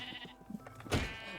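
A sheep in the Minecraft video game gives one short, nasal bleat near the end, preceded by faint clicks and game noises, with no talking.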